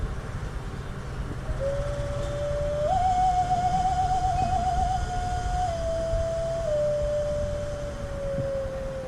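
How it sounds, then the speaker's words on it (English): A balloon gives a thin, wavering squeal that rises and holds, warbling briefly before sliding slowly down in pitch, over a steady low rumble of background noise aboard the Rocky Mountaineer train. "Alright, here's the sound of a balloon."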